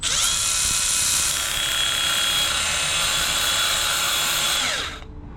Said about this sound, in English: Milwaukee belt sander, clean up that edge.